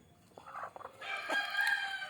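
Country chickens feeding on bran, with scattered clucks early on and then a sustained, loud crowing call rising from the flock, close by and without talk.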